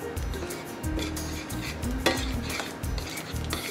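Melted molten sugar being stirred with toasted sesame seeds in a pan, with a steady scraping and clinking of a utensil against the pan over a soft sizzle, close up and without talk.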